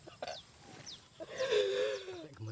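A hen clucking close by, a few short calls rising into a longer drawn-out cluck, with faint background sounds.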